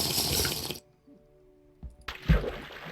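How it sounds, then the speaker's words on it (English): Drinking water in the Minecraft mod TerraFirmaCraft, a short splashy, tap-like water burst, then a near-silent gap, then another watery gurgle and splash. "I don't know why I'm drinking more water."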